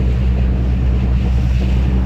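Steady loud rumble of a ferry boat engine with washing sea waves and wind buffeting the microphone, continuous and close throughout, no talking.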